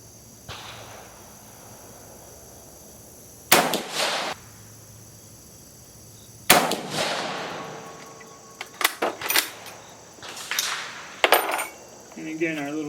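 Rifle shots fired with 6.5 Carcano ammunition while zeroing on a target, several sharp loud cracks spaced a few seconds apart with clattering handling noises between them.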